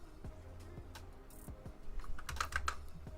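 Keys clack on a computer keyboard as a folder name is typed, a quick irregular run of close, crisp keystrokes that bunches into a faster flurry near the end, with no voice.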